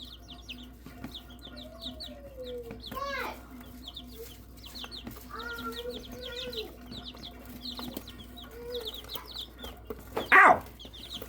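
Baby chickens cluck and peep in a small enclosure while chasing a bug, with scattered short chirps and rising peeps, a louder squawk near the end, and people talking quietly in the background.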